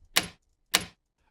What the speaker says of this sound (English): it's a door lock sound that sounds like this